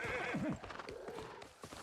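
Horse hooves clip-clop and a neigh rings out in the video game New World, a whinny early on over steady galloping footfalls, loud and close with no talking.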